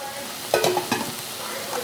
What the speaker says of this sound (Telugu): క్యాప్సికమ్ వేసాక 5 నిమిషాలు బాగా వేగనివ్వండి